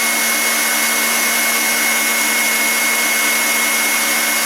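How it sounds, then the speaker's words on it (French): An electric hand mixer whips beaten egg whites with added sugar for floating-island meringue, a loud, continuous high whirring drone that holds steady throughout with no voices. "Je vais laisser tourner mon mélangeur jusqu'à ce que mes blancs prennent une jolie teinte nacrée."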